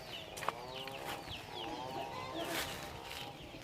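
Chickens cluck softly in a coop, several birds close by making overlapping short calls over a steady background hum.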